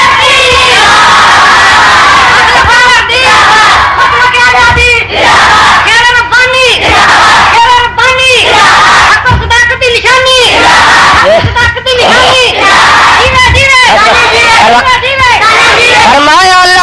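Gathering at a religious speech in Hafizabad erupts in loud massed slogan shouting, repeated rhythmic bursts of many voices echoing through a loudspeaker system, dense and overpowering throughout.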